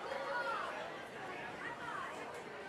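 Crowd at a robot fighting championship chanting together, a rhythmic, rising and falling mass of voices that holds steady at moderate distance for a few seconds.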